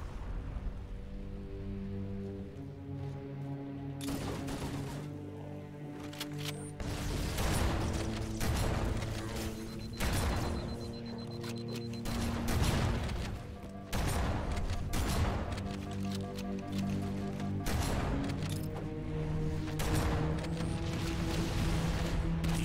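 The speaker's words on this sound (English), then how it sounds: "Wow, I heard a lot of explosions." Gunfire and explosions in the Halo video game go off in repeated loud bursts and booms over a droning music bed, the blasts spaced irregularly across the stretch.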